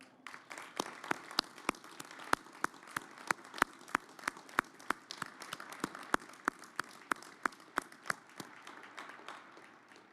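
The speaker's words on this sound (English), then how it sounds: "Please join me in a round of applause." Scattered, sparse clapping at a university commencement ceremony, individual sharp claps ringing out at a steady irregular pace over a faint room hum for about ten seconds, fairly quiet and distant.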